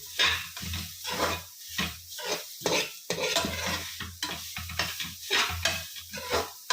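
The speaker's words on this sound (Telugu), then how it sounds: "ఇది కూడా అలాగా పచ్చివాసన పోయేదాకా వేయించుకోండి" A spatula scrapes and stirs grated carrot frying in ghee in a steady, repeating rhythm over a continuous sizzle, close and fairly loud.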